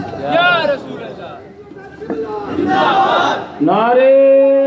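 A large crowd at an Urdu-language religious gathering chants slogans in unison, loud and close. Several rising collective shouts carry the responses, and the third swells into a sustained, tonal chant.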